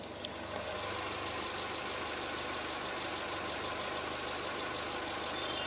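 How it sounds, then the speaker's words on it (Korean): The 2017 imported SUV with a 1.5 turbo engine idles steadily, a smooth, even hum with a faint low rumble, recorded close by and unbroken, with no talk. "그럼 바로 영상으로 엔진 소음 한번 담아보도록 하겠습니다."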